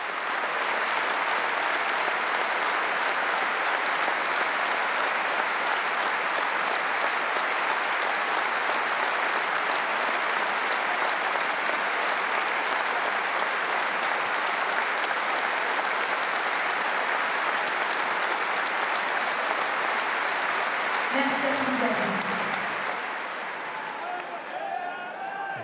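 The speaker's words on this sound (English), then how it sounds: "Applause there for Mehdi Najisi, sadly missed." At a Top 14 rugby match between Stade Rochelais and RC Toulonnais, the packed stadium crowd gives long, steady applause in tribute to Mehdi Najisi. The clapping stays dense and even, then thins slightly near the end as a brief voice cuts in.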